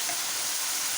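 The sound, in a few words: onion paste added to sizzling pan for stuffed capsicum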